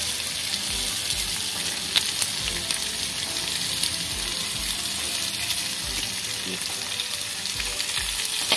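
Food sizzles steadily in a hot pan as fig-based dish ingredients are sautéed, with soft scraping and stirring sounds recurring at a relaxed pace.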